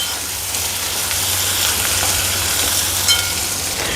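Onions and tomatoes sautéing in a pan, a steady close sizzle and crackle with faint stirring, no voices.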